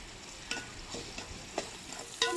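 Ground coconut and masala are stirred into tomato, onion and green chilli in a pan for a spicy salmon fish curry: soft sizzling with a few separate scraping strokes of a spoon, close and quiet, no voices.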